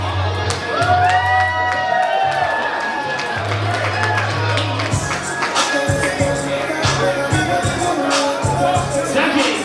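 A crowd at a ballroom event in New York City whoops, shouts and claps under a loud thumping house beat, with an emcee's amplified voice riding over the noise.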